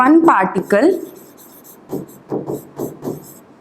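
Hand writing on a board or paper during a chemistry lesson, a few short scratchy strokes in quick succession after someone briefly speaks, close and moderately loud.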